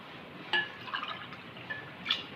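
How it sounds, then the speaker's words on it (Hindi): Water poured glass by glass into a cooking pot holding one-pot chicken daleem ingredients, giving soft splashes and drips with a few light clinks, quiet and close, with no talking. "तकरीबन 9 गिलास मैंने पानी इसमें डाल दिया है।"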